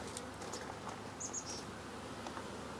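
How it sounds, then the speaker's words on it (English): Honeybees buzz faintly around salvaged brood comb banded into frames in a nuc box, a low steady hum with a few brief higher whines of single bees passing close. "Some of the bees are already in there that were on the lid"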